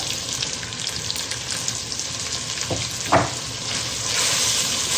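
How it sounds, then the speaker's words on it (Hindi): Spice masala for gobi matar fries in a pan with a steady close sizzle, punctuated by a couple of stirring scrapes and clatters. "अपने मसाले को फ्राई कर लेंगे"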